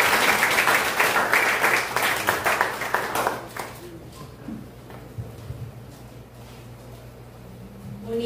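An audience claps for a contestant at a reflection competition session, dense applause for about three seconds that thins out into a few scattered claps and room noise.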